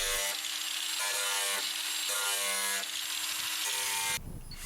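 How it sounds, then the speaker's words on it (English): A cordless angle grinder lightly grinding and keying the surface of a car wing before filler, a steady high buzzing whine running continuously with slight dips in pitch, ending in a brief rougher burst. "I did a little light grinding away with my cordless grinder to key up the surface and taper it all"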